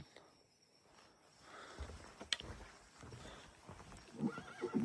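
A mechanical horse statue neighs and whinnies loudly over a quiet background, with a few hoof-like clops and faint insect chirping around it.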